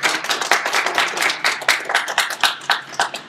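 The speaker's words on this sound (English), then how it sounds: "Just another round of applause." Applause from a small audience at a poetry reading and book talk, individual claps clearly separated in a quick uneven rhythm, moderately close and without talk.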